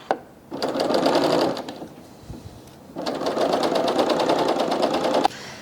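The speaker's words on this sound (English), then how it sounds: "So now I'm going to go ahead and serge these up." A serger stitches seams on a jersey shirt, running in two bursts of fast, even mechanical whirring close to the mic, with a short pause between the runs and a brief click at the end.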